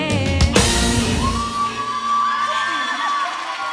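A crowd cheers, whoops and shouts loudly after a song in a singing contest semifinal, a dense roar of voices with a sharp burst early on, sustained without pause.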